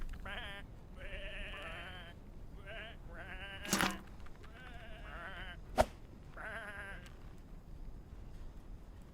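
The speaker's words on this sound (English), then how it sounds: "Come on, these are just sheep." Sheep in the video game Whateverland bleat several times in short wavering calls, a few separate bleats spread across the clip, with two sharp thuds standing out between them.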